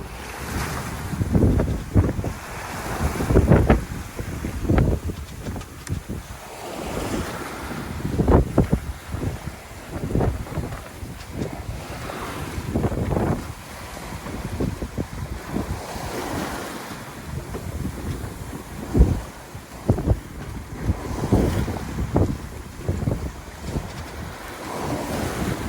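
A sailboat sails close hauled off the Marquesas between Nuku Hiva and Ua Pou, with loud, irregular bursts of waves slapping the hull and gusting wind buffeting close by, no voices.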